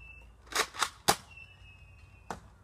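A Nerf Rotofury toy blaster fires outdoors, several sharp popping shots spaced irregularly, three in quick succession and one more after a pause, with a faint high whine in between.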